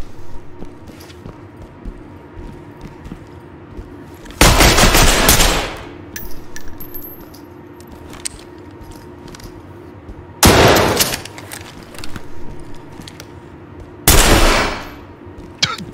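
Gunfire in the tactical shooter Ready or Not: three loud, close bursts of automatic fire, each about a second long and spaced several seconds apart, with quieter game ambience between.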